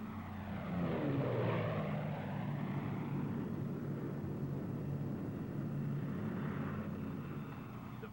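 Sustained roar of a P-51 Mustang propeller plane in a steep high-speed dive, a loud, steady engine and airscrew drone that swells slightly near the start and holds throughout.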